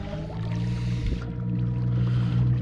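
A Jackson 65 lb electric trolling motor drives a boat on a lake, giving a steady low hum with water swishing and gurgling close by, no talking.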